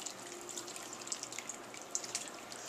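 Flavoring liquid is poured over mixed vegetables for grilling, making a faint, continuous trickle with small drips and splashes close by.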